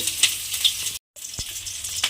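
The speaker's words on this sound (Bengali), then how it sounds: "দিয়ে একটু লাল করে ফুলকপিগুলো ভেজে নেব" Cauliflower florets sizzle and crackle steadily in hot oil, a bright continuous frying hiss with a brief gap and a soft clink of stirring.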